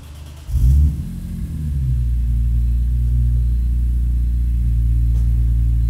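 BMW Z4M roadster engine starting with a loud low burst, then settling into a steady, deep idle rumble close by, with no talking.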